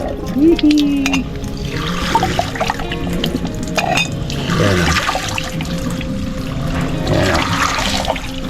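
Water gushes and splashes in repeated surges from a hand pump, close by and loud, with a voice speaking briefly near the start.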